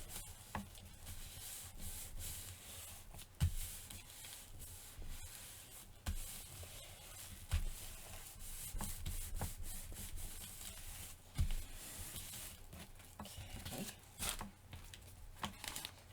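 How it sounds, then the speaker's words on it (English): Paper being glued down and rubbed flat by hand on a craft surface, a soft close scraping and rubbing with repeated light strokes and occasional taps, quiet throughout. "Hope this isn't too boring watching me just glue paper down."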